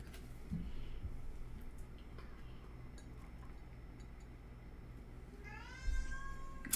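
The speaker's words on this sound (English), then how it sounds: "Oh, the cat's going crazy." A cat gives a rising, drawn-out meow near the end, following quiet room noise and a few faint clinks.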